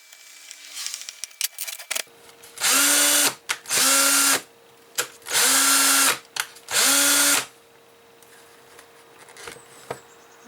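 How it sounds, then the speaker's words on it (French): Ryobi One+ cordless drill-driver running on a repaired 2Ah battery: four loud whirring motor bursts of about a second each with short gaps, close, preceded and followed by quiet handling clicks. "je vais juste remettre la partie haute pour essayer sur la visseuse"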